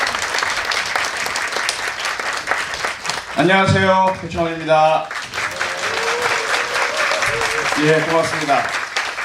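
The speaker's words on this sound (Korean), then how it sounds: "큰 박수 부탁드립니다" An audience applauds to welcome a National Assembly member to the stage at a lecture event, steady clapping running throughout while the speaker greets the crowd and thanks them over it.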